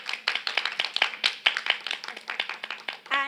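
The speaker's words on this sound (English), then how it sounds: "Can we have a round of applause for her?" An audience applauds an author at a literary event, with steady close clapping from a small group lasting about three seconds and ending in a brief vocal sound.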